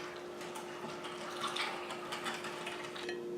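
A hand-cranked food grinder works through hard-boiled eggs and pickles, giving a faint, steady mechanical ratcheting grind with a wet, squishy edge and a constant hum beneath it.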